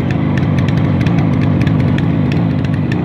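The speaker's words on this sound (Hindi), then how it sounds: "अब चल मैं इसके आपको इंजन की आवाज़ भी सुनाता हूँ।" A Yamaha RD350 motorcycle engine runs steadily at idle with a loud, continuous rumble and rapid rhythmic exhaust pulses, close by.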